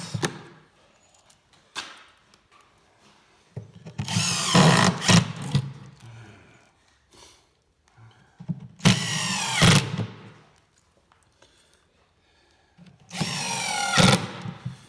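A power drill drives four small screws into a wooden speed sled for home workouts, whirring in three loud bursts of a second or two each, with quiet handling noise between them.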